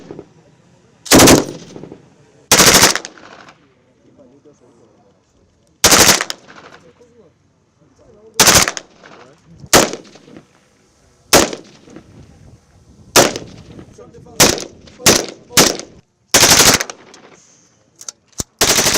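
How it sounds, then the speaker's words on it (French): KCR 556 and KMR 762 rifles fired at a weapons demonstration: a dozen or so sharp, loud shots in irregular spacing, some singles and some quick pairs, ringing briefly against quiet gaps. "les essais des armes KCR 556, KMR 762 et les Rafales ont séduit plus d'un."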